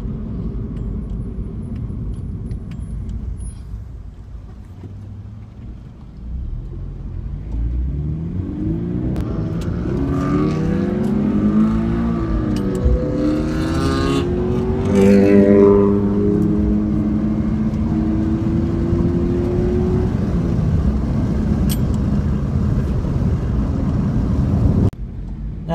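A 2013 Scion FR-S sports car drives by, engine note rising and sweeping as it accelerates past, loud and close with wind buffeting the microphone, then settling into a steady drone.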